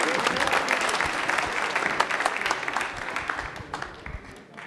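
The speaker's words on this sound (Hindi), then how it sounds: "अभिषेक के लिए तालियां भी एक बार जोरदार हो जाएं" A studio audience at a televised quiz show applauds for a contestant, a dense burst of clapping that stays loud and then tapers off toward the end.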